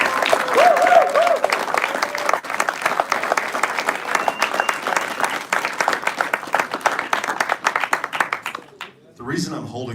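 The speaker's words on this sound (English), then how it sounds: "let's give a big round of applause to that group of people." Audience applause fills a room at a robotics awards ceremony, dense steady clapping for about nine seconds before it tapers off, with a brief voice at the very end.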